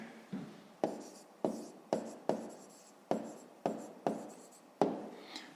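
A pen or chalk writes a maths answer in a series of about ten short, scratchy strokes at an uneven pace, each stroke fading out before the next, close and with no one talking.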